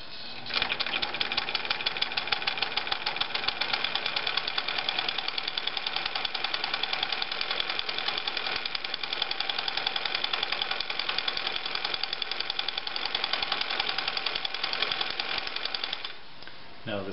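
Bernina Record 730 sewing machine running steadily for about sixteen seconds, a fast, even mechanical clatter with dense rapid needle ticking, close and continuous before stopping near the end.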